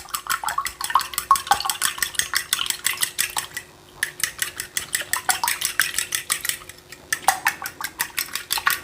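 Dry pancake ingredients with table salt being mixed in a bowl, a rapid run of close, sharp utensil scrapes and clinks against the bowl in steady bursts with two brief pauses.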